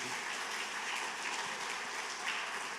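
Steady, even wash of applause from a church congregation at a worship service, continuous and moderately distant for the whole stretch.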